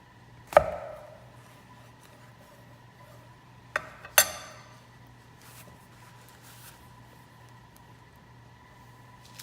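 A knife cuts through a tomato on a board, with one sharp chop near the start and two more close together around the four-second mark, each a crisp clack over quiet kitchen room tone.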